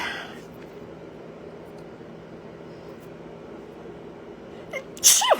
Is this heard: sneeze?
yes